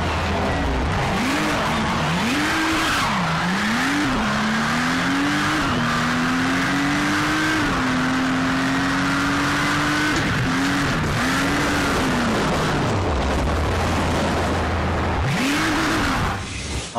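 Video game car physics demo: a car engine revs and shifts pitch continuously while tires screech and skid, loud and close throughout with no talking.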